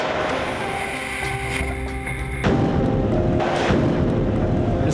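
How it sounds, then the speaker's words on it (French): A tunnel boring machine breaks through into Oullins station on Métro line B, producing a loud, continuous grinding roar that suddenly swells into an even heavier, deafening crash and rumble halfway through. "lorsque le tunnelier pénétrait dans la station d'Oulin après 5 mois de percée"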